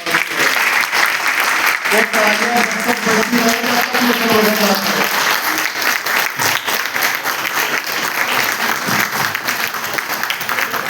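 Loud, sustained applause from a crowd at an Anganwadi workers' rally in Saharanpur, continuous dense clapping throughout, with a voice speaking over it for a few seconds partway through.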